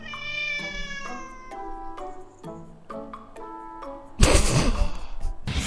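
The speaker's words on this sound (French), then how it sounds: "Oh encore un autre chat." A cat meows several times in drawn-out, wavering cries at close range, followed by a sudden burst of loud noisy sound at the end.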